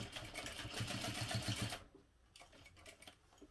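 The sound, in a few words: sewing machine stitching a line across backpack top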